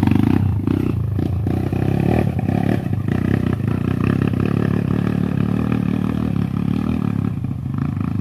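A motorcycle engine revs hard and roars loudly up close on a ride around resort areas in Ceará, Brazil, keeping a dense, continuous rumble the whole time.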